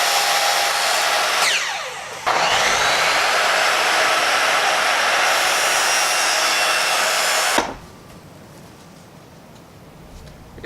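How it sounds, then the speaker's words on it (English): Chop saw cutting stainless steel tile, a loud continuous high whine with grinding metallic hiss that stops briefly, resumes for several seconds, then cuts off abruptly to leave a low motor rundown. "let's go out to the chop saw"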